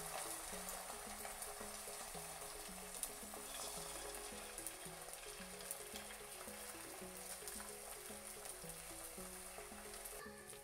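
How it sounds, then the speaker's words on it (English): An egg fries in a small amount of oil in a pot that was used for frying plantains, giving a steady soft sizzle, fairly quiet, with no voices. "Now we're going to fry the egg in the same pot we fried the plantains in."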